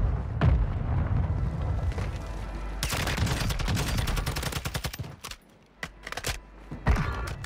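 Rapid MP5 submachine gun fire in a shooter video game, sustained bursts of dense, loud shots with brief pauses, ending in a few short separate bursts.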